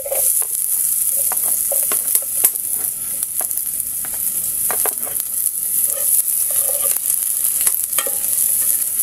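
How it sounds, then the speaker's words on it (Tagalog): Garlic sautés in a pan with ginger, a continuous bright sizzle and crackle up close, broken by spatula stirring and scraping against the pan, with no one talking. "Kaya napakabango ng bawang pag ginigisa, no?"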